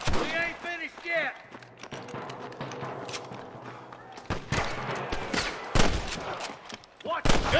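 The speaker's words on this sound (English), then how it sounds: "Good shooting, boy!" A shootout in Red Dead Redemption erupts in sharp rifle and pistol cracks, loud and close, firing irregularly in clusters between stretches of quieter ambience, with a voice shouting over parts of it.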